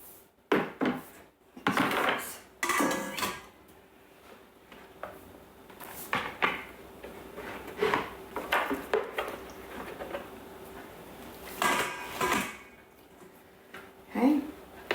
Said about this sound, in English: transfer the chicken into a thermal serving bowl or another large bowl and set aside